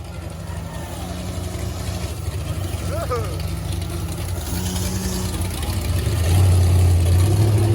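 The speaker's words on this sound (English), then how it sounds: "that Cummins Turbo Diesel" Cummins turbo diesel truck at a truck tug event at a barn in Sanford, Florida, a low idling diesel rumble that swells louder near the end, with voices and crowd noise over it.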